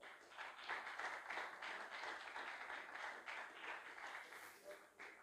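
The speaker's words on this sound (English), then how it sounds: "So I think that deserves a round of applause." A round of applause from a crowd at a table tennis club championship grand final, dense overlapping clapping that rises and falls steadily, heard from a distance at moderate loudness.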